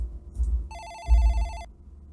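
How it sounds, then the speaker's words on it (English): A telephone gives a shrill electronic ring, one short trilling burst laid over a low rumbling background, with no talking. "but the phone gave a shrill ring"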